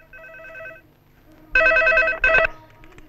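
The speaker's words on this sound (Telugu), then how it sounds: "రఘు నీకే ఫోన్" A telephone rings in a Telugu feature film: a faint electronic ring first, then two loud, bright ringing bursts close together near the end, with no talk over them.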